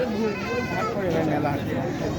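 Goats bleat amid the busy Taherpur goat market, a dense crowd of animal calls overlapping with steady chatter and people talking throughout.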